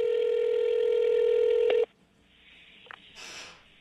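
Telephone call being placed, with a loud steady tone lasting almost two seconds before it cuts off, then faint line noise and brief clicks.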